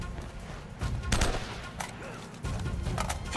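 Gunfire in the video game Uncharted comes as scattered bursts of shots, moderately loud and close, with short pauses between volleys.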